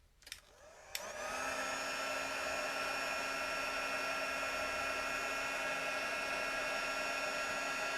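An embossing heat tool switches on with a click and blows a steady, loud whirring hiss while it melts embossing powder on a handmade Christmas card, the drone continuing unbroken to the end.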